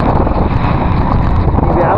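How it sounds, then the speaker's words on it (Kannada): Wind blows after the rain has stopped, roaring and buffeting loudly against the microphone in uneven gusts for about two seconds. "ಈಗ ಮಳೆ ನಿಂತ ಮೇಲೆ ಗಾಳಿ ಬೀಸುತ್ತೆ"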